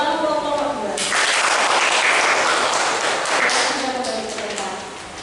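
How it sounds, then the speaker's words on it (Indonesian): Classroom students applaud for group 2 in a lively burst of clapping lasting several seconds, loud and dense near the middle before tapering off, with a voice audible at the start and end. "beri tepuk tangan untuk kelompok 2"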